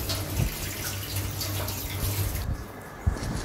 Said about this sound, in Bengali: টমেটো, কাঁচা লঙ্কা, রসুন, আদা এগুলো আমরা ধুয়ে নিচ্ছি।